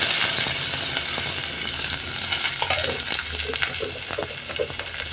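Onion, curry leaves and ginger sauté in a hot pan for upma, giving a constant close sizzle with occasional stirring scrapes and clicks.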